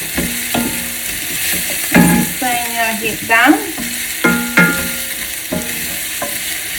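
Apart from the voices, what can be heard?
sauteing pork adobo in a pan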